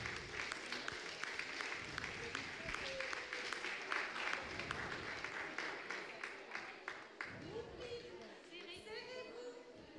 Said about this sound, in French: Un tonnerre d'applaudissements pour la catégorie des juniors